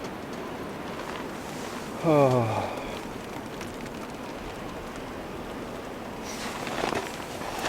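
Frozen rain and snow fall steadily in a winter camp, giving a constant hissing patter, and a person briefly exclaims partway through.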